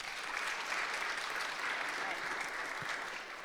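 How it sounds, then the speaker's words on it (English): A live audience breaks into a dense, steady round of applause for a speaker at a faith and therapy event; the clapping stays loud and full throughout, then tapers slightly at the end. "Let's give her a round of applause."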